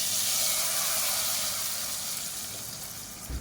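A hot garlic and onion tempering hits green gram sambar with a loud, steady sizzle and hiss that holds evenly, then tapers slightly near the end with no talking.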